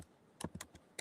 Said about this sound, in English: I was typing Lauren Taylor